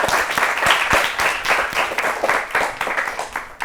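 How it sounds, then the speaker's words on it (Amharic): A studio audience at an Ethiopian children's TV quiz contest gives sustained, lively applause, a thick, even wash of many clapping hands heard up close for several seconds without speech. "ድገሙና አጨብጭቡላቸው ለሁላችን"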